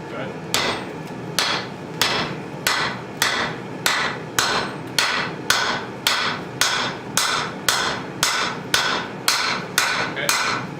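Hammer forging a steel bowie knife blade, a steady rhythm of about eighteen sharp, loud metallic strikes close by, evenly spaced roughly every half second with ringing between blows.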